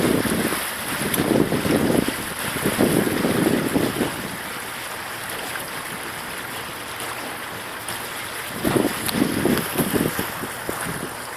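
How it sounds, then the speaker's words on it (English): Water taxi crossing the Potomac River from Maryland toward Alexandria: steady engine drone and rushing water with bursts of wind buffeting the microphone, continuous and fairly loud. "we will be going back to Alexandria round trip on this water taxi"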